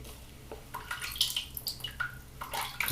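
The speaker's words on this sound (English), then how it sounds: "I'm just dripping it onto the brush." Water drips and splashes onto a shaving brush while working up Wars Classic shaving cream from Poland, giving a run of small irregular wet taps and trickles, close and fairly quiet, with no talk.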